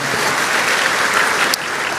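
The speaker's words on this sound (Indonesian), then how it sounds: "Berikan tepuk tangan kita untuk Tuhan kita." A church congregation claps together during a Christian sermon, loud dense applause holding steady, then easing slightly near the end.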